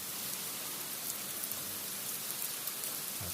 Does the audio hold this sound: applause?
no